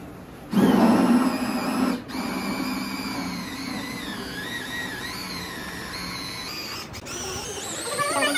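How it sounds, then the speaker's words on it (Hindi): A steady mechanical whir of a motorized haleem stirring machine runs continuously, with a brief clunk near the start and another later, loud and close. "यह है हमारे घोटे की मशीन।"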